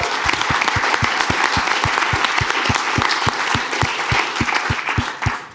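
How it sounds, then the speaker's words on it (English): A conference audience gives loud, sustained applause with a steady clapping rhythm and some crowd noise, which tapers off at the very end. "It's a little round of applause for that."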